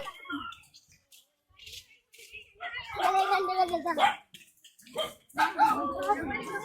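Dog barking and yipping in a hut area in Batticaloa, several sharp loud barks in bursts, mixed with people talking nearby.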